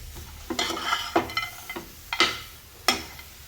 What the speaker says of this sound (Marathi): पालक मस्त भाजून घ्यायचा आहे सर्व.